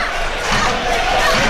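A home crowd at a Latvia versus Wales UEFA European Championship football match roars in response to a goal-mouth attack, a loud, broad surge of cheering and chatter from the stands.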